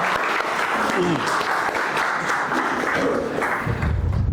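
An audience at a homeopathy seminar gives a sustained burst of clapping to welcome a speaker. The applause stays loud and dense throughout, with a voice briefly heard over it near the end.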